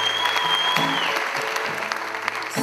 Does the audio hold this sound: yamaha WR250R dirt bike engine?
no